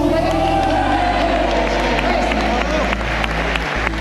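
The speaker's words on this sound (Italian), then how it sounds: "un applauso per Tommaso Sturaro" A crowd at a regional youth boxing championship claps and cheers steadily, a loud dense roar of applause and voices filling the venue throughout, with a low hum underneath.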